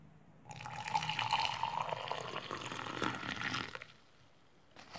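Water poured into a Slovenian Army Type C combat ration pouch, a steady close-up stream with a gurgling fill lasting several seconds before stopping, with a faint clatter at the end.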